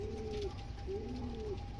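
A racing pigeon arriving back at its loft during a club training race coos softly: two rounded coos spaced about a second apart, over a steady low background hum.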